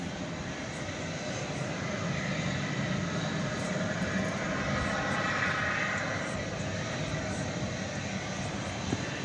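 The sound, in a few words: Airbus A321 departing for Sacramento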